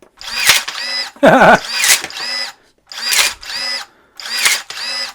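Yofidra cordless electric pruning shears cut through a 1 by 5/8 inch wooden rod. Four loud, close motor whirs rise and fall, with a brief crunching grind on one of the cuts.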